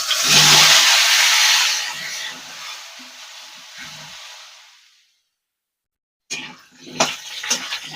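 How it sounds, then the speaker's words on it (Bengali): Potatoes frying in oil that earlier fried fish heads for a cabbage dish give a loud, steady sizzle that thins out over about five seconds, followed by silence and a few brief kitchen clatters. "ওই তেলটাই আমরা আলুটা ভেজে নেবো।"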